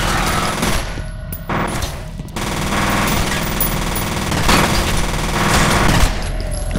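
Dense automatic gunfire from the video game F.E.A.R. rattles almost continuously, loud and close, with short pauses between sustained bursts.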